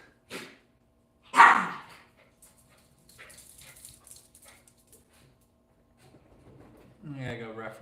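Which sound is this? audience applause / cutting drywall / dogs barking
dogs barking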